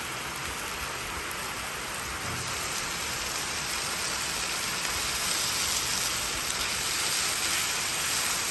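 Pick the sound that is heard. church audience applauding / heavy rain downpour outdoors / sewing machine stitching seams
heavy rain downpour outdoors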